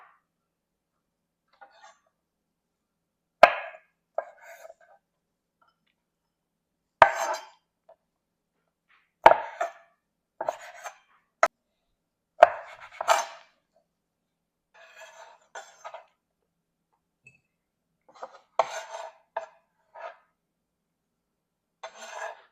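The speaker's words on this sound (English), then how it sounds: "I'm going to cut each shrimp into half" A knife cuts pre-cooked shrimp in half on a board, giving sparse, sharp taps and brief scraping strokes separated by long quiet gaps, close and fairly faint.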